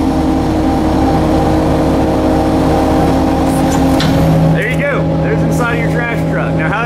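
A garbage truck raises its arm with a loud, continuous hydraulic and engine drone carrying steady tonal hum, shifting pitch near the end as the mechanism strains; a voice speaks briefly over it.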